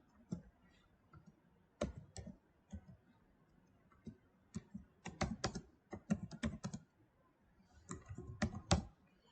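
Computer keyboard keys clack as code is typed, sharp irregular clicks in short quick bursts separated by brief pauses, close and clear with no talking.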